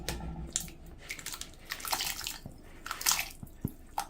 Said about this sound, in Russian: И отправляем нарезанную колбасу сразу в воду.